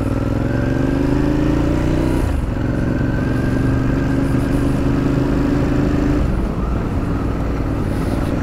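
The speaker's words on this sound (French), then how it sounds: "Vous voyez ce que vient de faire le scooter là" A scooter passes through busy Paris street traffic, its engine droning loud and close with a steady mid-pitched buzz and a shift in tone partway through, other motor vehicles rumbling beneath.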